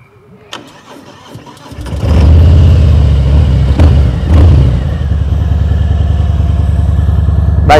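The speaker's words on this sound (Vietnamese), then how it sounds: "Đây tiếng bô." A silver 2020 Harley-Davidson Fat Boy 114 starts up after a few clicks, its engine and exhaust bursting into a loud, deep, lumpy idle that rumbles on close to the microphone.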